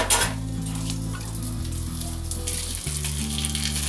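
Oil heating in a kadhai for a Himachali-style masala fish curry gives a steady crackling sizzle with a faint hissing wash, continuous and close throughout, with no voices.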